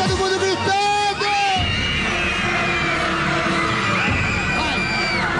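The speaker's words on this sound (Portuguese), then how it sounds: "Todo mundo gritando!" Loud crowd at a TV festival show shouting, screaming and whooping continuously, a dense, sustained roar of many voices close by.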